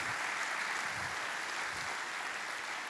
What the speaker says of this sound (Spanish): dale a Dios un aplauso por su palabra revelada